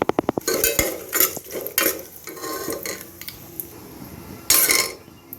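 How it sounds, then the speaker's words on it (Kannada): Stone flower, star anise and bay leaf sizzle in hot oil in a pan while a metal spoon scrapes and clinks against it in brisk bursts of stirring, close and clear with no talking. "ಇದಕ್ಕೆ ಸ್ವಲ್ಪ ಇವಾಗ ಇದೇನು ಕಲ್ಲು ಹೂವು ಅಂತನೋ ಅಂತಾರಲ್ಲ ಇದು, ಮತ್ತು ಸ್ಟಾರು, ಪಲಾವ್ ಎಲೆ ಇಷ್ಟನ್ನು ಹಾಕಿ ಇವಾಗ ಚೆನ್ನಾಗಿ ಬಾಡಿಸ್ಕೊಳ್ಳೋಣ"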